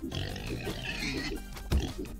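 King Pig from Turnip Boy Commits Tax Evasion oinking, a short run of close, continuous snorting grunts with a brief louder thump near the end.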